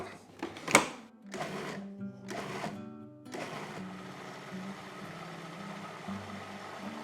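A food processor blends cayenne, coarse salt and olive oil: a few sharp pulsed bursts at first, then a steady motor whir running on without talk.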